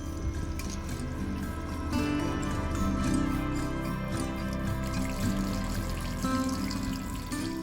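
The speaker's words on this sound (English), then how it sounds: "I can finally show you this pressure boosting shower head." A pressure-boosting shower head runs inside a van, giving a steady hissing spray of water that patters continuously at close range and swells slightly partway through, with no talking.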